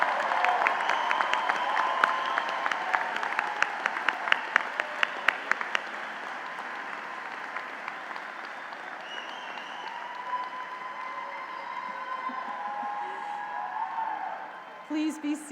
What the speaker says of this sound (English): A round of applause for these graduates,